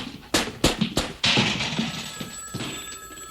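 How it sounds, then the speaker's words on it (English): An old-style telephone rings in a few sharp bell bursts close by, each ring decaying into a brief shimmering tail before the next strike. "The phone rang."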